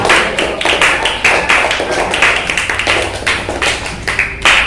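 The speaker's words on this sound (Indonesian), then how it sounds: "Terus tepuk tangan untuk semua kelompok ya, tepuk tangan." A classroom of students claps for all the presenting groups, a steady run of sharp, dense handclaps filling the whole stretch at close range, with a faint voice beneath.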